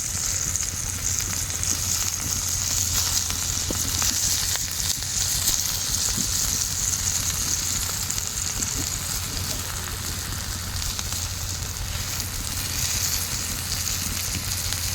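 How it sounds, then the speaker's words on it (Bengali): Chal kumro (ash gourd) paturi frying in a covered pan, a loud continuous hissing sizzle like steady rain, unbroken for the whole stretch with no voices. "ভালো করে লাল লাল করে ভেজে নেব"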